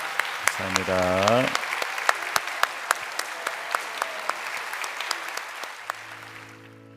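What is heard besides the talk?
church congregation applause blessing the children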